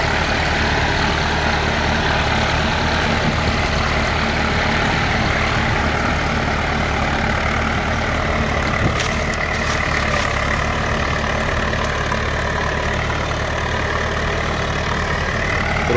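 A heavy 1979 Nasr 60 tractor engine idles steadily and loudly close by, a constant rumbling chug with no talking, holding the same level throughout.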